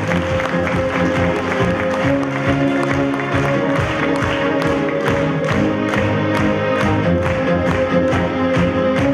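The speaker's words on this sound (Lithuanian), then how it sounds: "O mes galime nepagailėti aplodismentų" An audience applauds award winners at a ceremony. Steady, dense clapping carries on close by and at an even loudness throughout.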